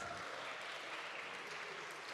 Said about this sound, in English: Let's give Andrew a massive round of applause